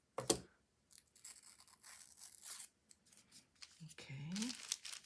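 Scissors cutting paper for a junk journal specimen tag, a few close, quiet snips and crisp paper rustles in short bursts separated by silence.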